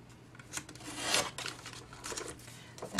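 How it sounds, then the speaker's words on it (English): An ink pad rubbed along the edge of a Father's Day card makes soft, faint scratchy brushing strokes, close and intermittent. "And just ink the edge a little."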